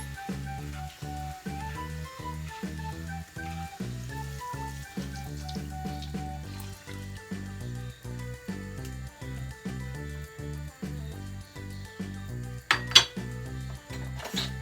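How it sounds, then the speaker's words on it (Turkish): A whisk clinks against a pot as milk is whisked for broccoli soup, a fast, steady run of ringing metallic taps that continues throughout with no voices. "kaynayana kadar güzelce çırpıyoruz"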